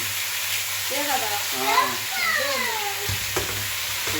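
Large pieces of mutton frying and being stirred in a pan, a steady sizzle with scraping strokes, while a voice talks over it in the middle and a sharp clatter comes near the end.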